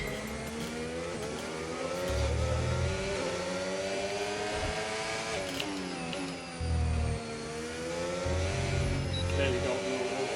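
F1 car in the F1 25 video game at Zandvoort on a flying lap, engine whine climbing and falling through gear changes, loud and continuous, with brief low thumps.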